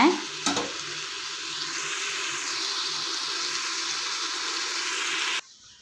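Mutton pieces coated in masala for Ambur biryani sizzle steadily in a pan while being stirred, a continuous bright frying hiss with an early scrape, close and loud, cutting off abruptly near the end.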